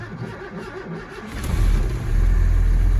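A truck used for snow plowing cranks and starts with the choke set, a brief whirring crank followed by the engine catching into a loud, steady low rumble, close by with no talking.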